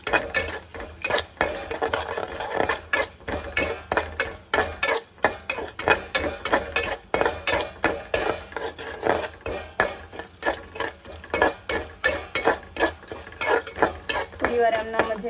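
Almonds and cardamom being stirred into a semolina mixture for a festival offering, the spoon scraping the pan in a quick, steady rhythm of close clinks and scrapes throughout, with no talking.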